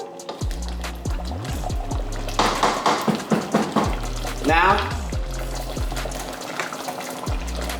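Water runs from a kitchen faucet during meal prep. It comes in gushing bursts in the middle of a few seconds of kitchen noise, with a voice talking over it.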